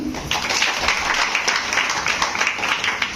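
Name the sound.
audience applause at a meeting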